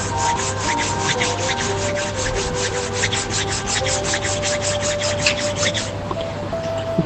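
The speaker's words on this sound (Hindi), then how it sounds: "Rub your palms." Palms rubbing together briskly in a fast, even back-and-forth rhythm, loud and close, for about six seconds before stopping, with no talk.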